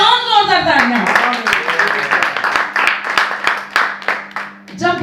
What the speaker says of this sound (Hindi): यीशु के लिए और जोरदार तालियां।